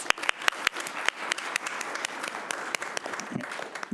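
A sparse round of applause for award-winning students at a city commission meeting, scattered individual claps ringing out over a thin bed of clapping, steady for a few seconds with no voices.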